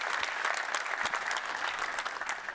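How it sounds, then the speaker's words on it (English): Audience at a Ceph Foundation conference keynote panel clapping in steady applause, a fairly distant, even wash of many hands lasting a couple of seconds with no voices over it. "please a round of applause for them"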